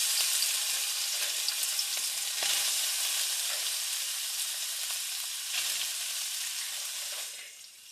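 Bite-size sausage for shrimp fried rice fries in a pan with a steady, close sizzle, swelling briefly a few times as it is stirred, then fading toward the end, with no talk.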